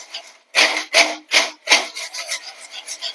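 A spoon stirs crispy fried tapioca chips in a pan, giving five loud dry rustling scrapes in steady rhythm, then lighter quicker rattling as the chips shift.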